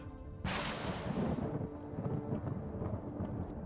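Thunderstorm in the video game Planetbase, a sudden deep rolling thunder crash that swells and then rumbles on steadily at moderate loudness.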